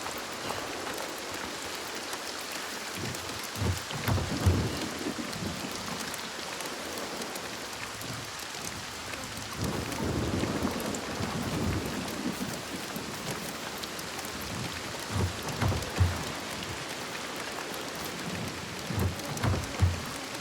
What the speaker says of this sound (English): The constant storm.